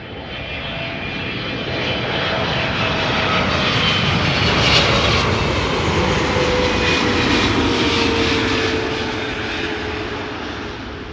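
Cargolux's retro-liveried Boeing 747, a 17-year-old freighter, arrives with a loud, steady jet engine roar that swells slightly and then eases over several seconds.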